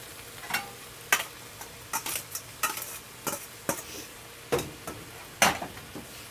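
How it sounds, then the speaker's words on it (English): Lo mein noodles are tossed and stirred into frying vegetables in a pan, a steady series of scraping and clattering stirs about once a second over a faint sizzle, close up with no talking. "Now I'm gonna add the lo mein noodles into the veggies."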